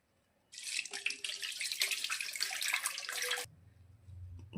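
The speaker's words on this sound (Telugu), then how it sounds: "పులుపుకు సరిపడా వాటర్ వేసుకుంటున్నా." Water pouring into tamarind juice in a bowl, a loud close splashing stream that starts suddenly, runs for about three seconds and stops, followed by a low hum.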